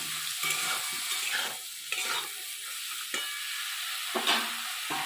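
Cut eggplant frying in a kadai, a moderate sizzle broken by several bursts of scraping and stirring from a spatula, with brief quieter gaps between them.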